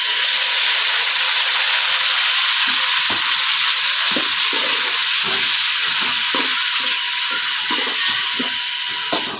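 Ground tomato paste poured into a pan of frying onions for a fish curry, hissing and sizzling loudly and steadily throughout, with soft stirring scrapes.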